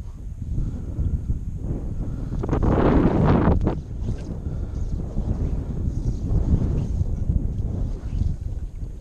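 Strong wind blows over clear water at a fly-fishing spot, buffeting the microphone with a steady low roar. A louder gust surges in the middle, and the wind stays strong throughout.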